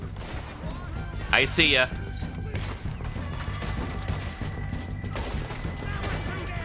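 Gunshots in Red Dead Redemption 2 ring out over a constant game background, one sharp loud blast standing out early, while someone talks briefly.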